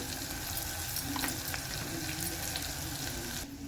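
Steady, close sizzling of radish pieces frying in hot oil for sambar, with occasional stirring scrapes, continuous and fairly loud.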